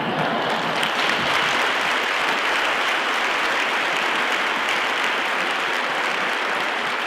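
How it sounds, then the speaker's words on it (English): An audience at a 2015 gala applauds steadily for about seven seconds, a dense, even wash of clapping with no break. "Please give them another round of applause for the Davis family"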